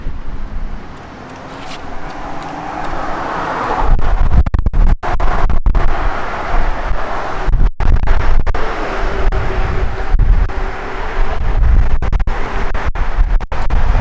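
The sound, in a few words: strong wind blowing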